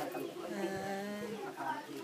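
A bird gives soft, repeated cooing calls with tonal, dove-like notes at a moderate distance, set against faint outdoor background sound.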